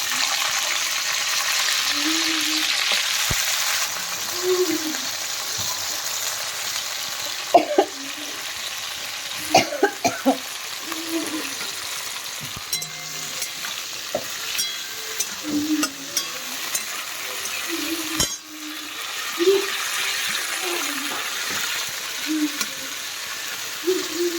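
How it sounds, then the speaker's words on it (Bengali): Broccoli fries in a pan for vegetable fried rice, a continuous sizzle close by with repeated scraping stirs and clinks, plus some splashy water-like bursts. "ব্রকলিটা ভেজে নেবো"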